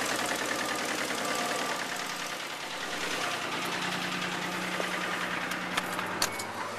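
A 3.5-liter 2000 Isuzu Trooper engine runs steadily with a knock, a constant broad drone carrying a fast rhythmic ticking and tapping, with a few sharper clicks near the end, heard alone without talk.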